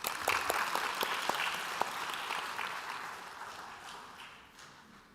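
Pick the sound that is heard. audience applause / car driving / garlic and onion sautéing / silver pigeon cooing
audience applause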